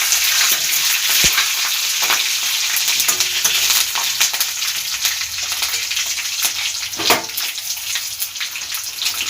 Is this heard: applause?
no